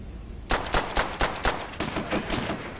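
A burst of rapid gunshots in Call of Duty: World at War, roughly a dozen sharp cracks fired in quick, slightly uneven succession after a moment of quiet, close and fairly loud.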